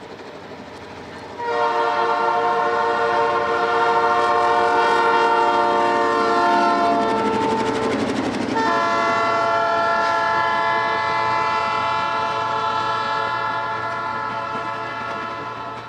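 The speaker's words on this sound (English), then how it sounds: "The train departed Montgomery with a CSX crew early in the morning" Royal Canadian Pacific passenger train passing on a CSX line in the Deep South, sounding a loud sustained multi-chime horn that breaks briefly and resumes, with rumbling wheels beneath, close and continuous.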